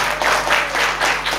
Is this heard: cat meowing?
no